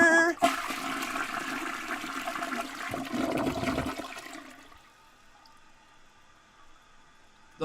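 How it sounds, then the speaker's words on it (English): A toilet flushes loudly with a gushing rush of water that drains away, leaving a quieter trickling refill afterward. "The flush says it all."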